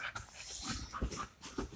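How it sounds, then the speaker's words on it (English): Pet dog panting in quick, soft breaths at close range, with a few faint whimpers mixed in and no talk. "It's my dog, Rev, and my dad."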